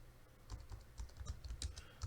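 Typing on a computer keyboard: a quick, uneven run of close, light key clicks over about two seconds, quiet, with no voice.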